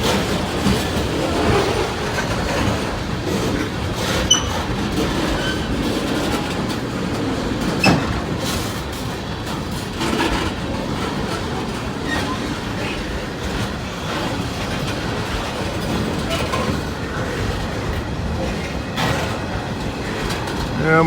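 Freight train with old, dented railroad cars rolling past nearby, a loud continuous rumble with rhythmic clickety-clack of wheels over rail joints and occasional clanks throughout.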